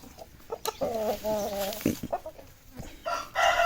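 A young Aseel rooster crows with a clear, stepped call lasting over a second, with short clucks before and after it, loud and close. A brief burst of broadband noise follows near the end.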